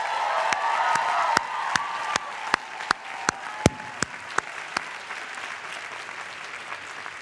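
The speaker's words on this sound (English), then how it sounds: "they deserve a huge round of applause" An audience applauds staff at a university commencement ceremony. The clapping is dense at first, then thins to scattered claps with a few loud single claps, heard indoors at a moderate distance.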